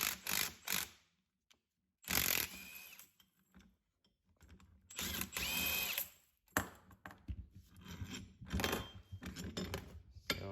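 A socket ratchet tightens a rod through the polyurethane front upright bushing of an NSX, giving close bursts of rapid clicking separated by quiet pauses, with no one talking.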